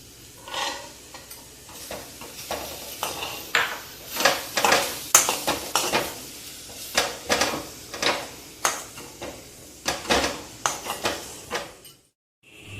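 A spatula scrapes and turns carrot poriyal with spice powder in a frying pan, making about two dozen rhythmic, close scraping strokes over a soft sizzle, ending abruptly in silence.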